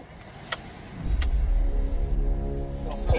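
Car engine close by rising as the vehicle pulls away on a road at Cannock Chase, a low rumble building steadily after a couple of faint clicks, with no talk.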